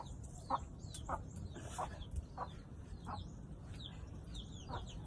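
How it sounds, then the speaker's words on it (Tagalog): A chicken clucks several times in short, separate calls against a quiet rural outdoor background in the Philippine countryside, with faint bird chirps higher up. "Meron kasi manok dito Gusto sumali sa vlog."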